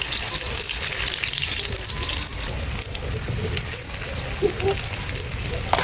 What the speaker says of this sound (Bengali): এখন আমার তেলটা গরম হয়েছে, আমি একটা করে বড়া ছাড়বো।